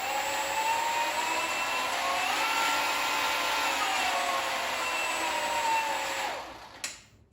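Steady high-pitched whine of a Milwaukee Fuel cordless lawn-care tool motor running alone, its pitch shifting slightly with trigger speed before winding down near the end.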